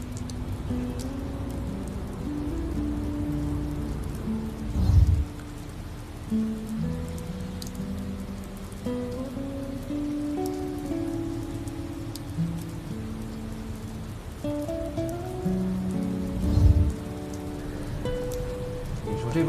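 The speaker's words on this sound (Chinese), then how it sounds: "下雨了。" Steady rain falls outdoors around a pavilion, a soft, even hiss of drops that continues throughout, blended with sustained tonal background sounds.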